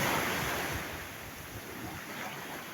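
Steady rushing surf and wind fill the air, a broad roaring wash of strong ocean waves against a breakwater, with gusty microphone buffeting, no voices.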